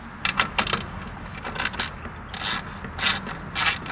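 A 5/8 inch ratchet tightening bolts on a hitch-mounted e-bike rack, a run of quick, close clicking bursts repeating in short strokes with brief pauses between them and no talk.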